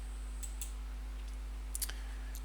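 A computer mouse clicks while tags are set up in OneNote, a few sharp, faint clicks scattered over a steady low hum, with no talking.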